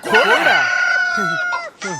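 A rooster crows loudly and close up, followed by a couple of short clucks.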